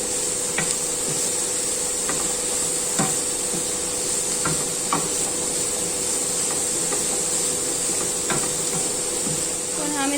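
Chicken is stirred with red chili powder and salt in a pan over a steady sizzle, with intermittent scraping and tapping of the spoon recurring every second or so, close and moderately loud.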